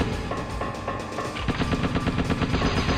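Gunfire in the video game Spy Fiction: sparse single shots at first, then sustained rapid automatic bursts in a fast, loud, even rhythm.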